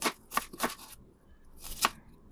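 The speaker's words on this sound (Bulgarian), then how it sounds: "Започвам като си нарязвам лука, режа го по-наедричко" Onion cut into coarse pieces with a knife on a board, with several sharp close chops in a loose rhythm and a pause before a final stroke, heard without talk.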